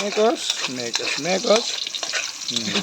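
Chopped onions are stirred in a hot pan for adobo, the utensil scraping in quick repeated strokes over a soft, steady sizzle.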